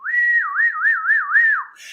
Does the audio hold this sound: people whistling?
yes